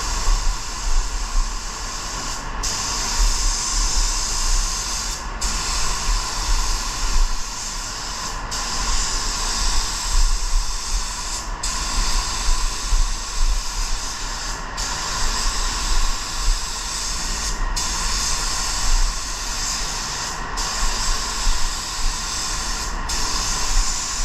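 Steady broadband hiss of a spray gun laying a candy paint coat onto a surface, continuous and close, broken at regular intervals by brief pauses between passes.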